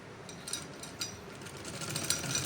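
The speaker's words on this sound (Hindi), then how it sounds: "इसी तरह ऊपर किनारे की सिलाई लगानी होगी।" A sewing machine runs while stitching the upper edge of a neckline, giving a continuous whirring hum with faint rapid ticking, moderately quiet and close, rising slightly toward the end.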